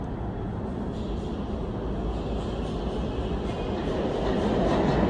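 A Broad Street Subway B1 train bound for Fern Rock rumbles steadily underground in Philadelphia, a dense continuous roar of wheels and rails that swells slightly louder toward the end, with no voices.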